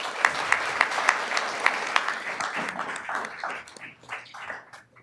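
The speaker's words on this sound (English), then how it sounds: "but if we could just give them a round of applause." An audience at a Veterans Day service applauds a fallen soldier's name, sharp near claps at first, then a dense wash of clapping that fades away.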